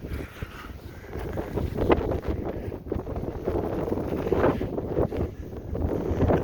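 Strong blizzard wind of 25 to 30 mph with gusts near 40 roars steadily and close, buffeting the microphone with rough low rumbling surges during an April snowstorm.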